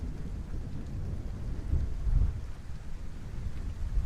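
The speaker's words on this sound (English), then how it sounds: "Oh, it's raining as well." Rain and rolling thunder in the video game Kerbal Space Program, a dense steady downpour with a low rumble that swells in the middle, heard alone with no voices.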